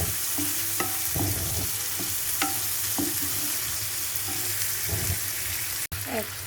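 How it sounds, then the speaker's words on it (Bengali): Taro leaves and hilsa fish sizzle in a pan while a spatula scrapes and stirs in repeated strokes, close and clear, with a sharp knock near the end. "কচু শাক দিয়ে ইলিশ মাছ দিয়ে ভাজি করব"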